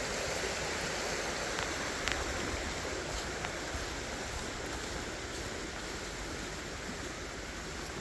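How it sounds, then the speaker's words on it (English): A storm-flooded homestead creek, widened to roughly sixteen to eighteen feet, rushes in a continuous broad hiss of flowing water, close and steady with no talking. "the creek is considerably wider here than it used to be"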